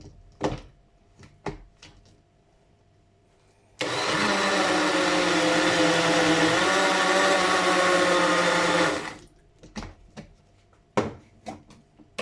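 A kitchen blender purees cooked potatoes and carrots in a loud, steady whirring burst of about five seconds, framed before and after by sharp knocks and clatters of handling the container.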